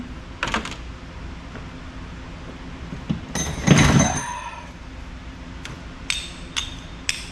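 Scrap metal pieces from a motorcycle repair shop, ferrous fittings and wire among them, are tossed into a bin. A few sharp metallic clanks and rattles land close by, with one louder crash in the middle, and there is no talk.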